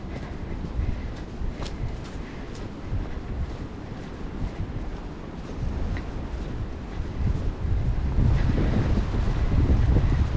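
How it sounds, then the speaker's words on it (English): Wind gusts across a forest trail in the Staten Island Greenbelt, a low rumbling buffet on the microphone that swells and grows stronger toward the end, with no talking. "The wind's picking up again"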